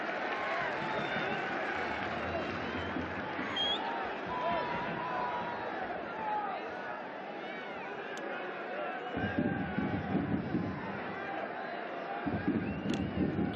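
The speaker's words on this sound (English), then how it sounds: "Crowd doing their very best to try and rouse this Nasaf side to get an equaliser" Football crowd at a Nasaf home match in the AFC Champions League Two, a steady roar of supporters cheering to lift their side, with louder surges toward the end, heard beneath ongoing commentary.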